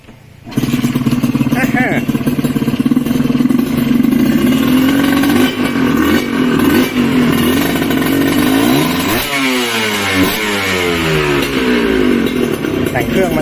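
A Kawasaki KR 150 SP two-stroke motorcycle is kick-started and then revved continuously, its loud buzzing engine rising and falling in pitch close by, with voices talking over it.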